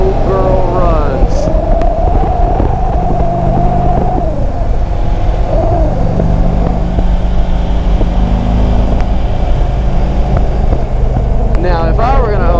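Harley Davidson Ultra Classic motorcycle with about 72,000 miles idling nearby, a loud continuous low rumble with slight rises in revs, a voice speaking over it now and then.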